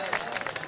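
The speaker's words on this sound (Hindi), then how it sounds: "जोरदार तालियां" Audience applause with scattered hand claps and crowd noise, moderately loud and sustained through a brief moment.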